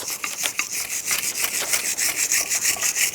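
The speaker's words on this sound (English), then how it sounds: "You want to take a wire brush and get all this rust off." Wire brush scrubbing rust off a front brake bracket on a 2005-2015 Nissan Xterra, heard as quick, close, rhythmic rasping strokes without any voices.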